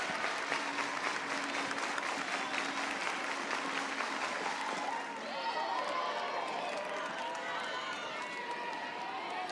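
A softball stadium crowd at an NCAA game between Alabama and Middle Tennessee claps and cheers steadily and loudly, with rhythmic applause in the first half giving way to a broad roar, while a commentator talks over it.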